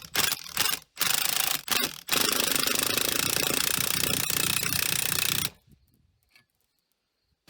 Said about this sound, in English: We're going to keep hitting it, see if it comes all the way through.